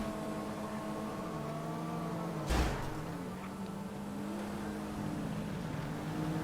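Engine drone of a car driving in Grand Theft Auto V, a steady motor hum with shifting pitch as it changes speed, plus one brief louder thump partway through, heard alone without talk.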